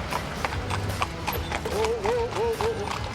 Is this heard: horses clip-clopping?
yes